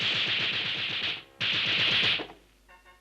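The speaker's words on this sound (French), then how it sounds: "des coups de fusil" Rapid bursts of rifle fire, two long rattling volleys separated by a brief pause, loud and close, fading into faint clatter at the end.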